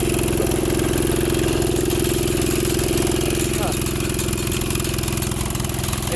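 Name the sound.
mini go kart engine running on sand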